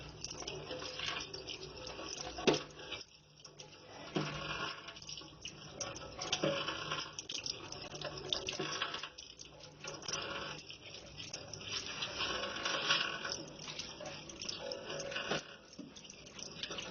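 Goat intestines being washed by hand in a pot of water, with steady sloshing and splashing that runs throughout at moderate level, broken by small rinsing surges and drips.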